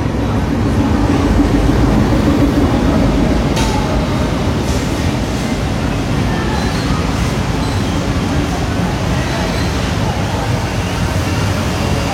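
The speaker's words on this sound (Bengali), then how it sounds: "বিশাল বিলম্বে ঢাকা প্রবেশ করছে খুলনা থেকে ছেড়ে আসা ঢাকা অভিমুখী নকশিকাঁথা কমিউটার" The Nakshikantha Commuter train from Khulna rumbles loudly and continuously into a Dhaka station, with steady rolling noise and a few sharp clanks, sounding close by.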